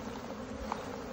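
Honey bees swarm and buzz during a spring hive inspection, a steady dense drone filling the whole moment, close and continuous with no voices.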